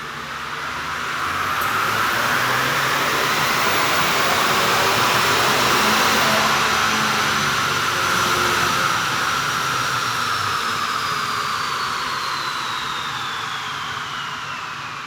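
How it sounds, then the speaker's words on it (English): A Ford Ranger with a 2.3L EcoBoost and a Whipple Stage 1 supercharger kit pulls on a dyno, engine roar and blower whine rising in pitch over a long, loud sweep and then easing off. "let's see what kind of numbers this thing makes on the dyno"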